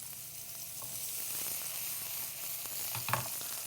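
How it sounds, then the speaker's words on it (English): Chopped onions sauté in a hot pan with a soft, steady sizzle, and a brief utensil clatter comes near the end. No one speaks. "So we're just going to saute our onions"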